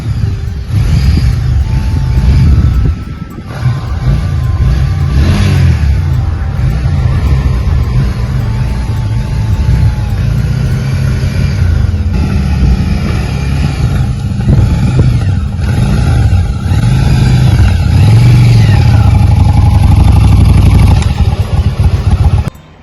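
A motorcycle ridden on the road toward a gurudwara in Carteret, New Jersey, its engine droning loud and close with steady rumble and wind buffeting throughout.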